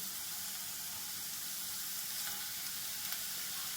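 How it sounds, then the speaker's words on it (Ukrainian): Fresh cabbage fries in a pan with onion, giving off a steady, even sizzling hiss heard up close with no voices. "А поки обжарюється наша свіжа капусточка"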